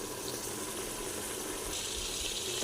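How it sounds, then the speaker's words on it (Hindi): A glass of water poured into a pot of minced meat for aloo keema, a steady close rushing splash of liquid that continues throughout at moderate level, no talking. "तो इसमें डालेंगे हम 1 गिलास पानी का।"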